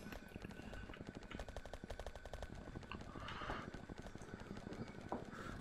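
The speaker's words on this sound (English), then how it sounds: "you'll constantly hear artillery shells going off" Artillery shells going off around a base in Factorio, a rapid, fairly steady train of sharp reports running throughout, faint and distant-sounding under a busy game soundscape.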